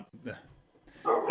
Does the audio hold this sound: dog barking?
yes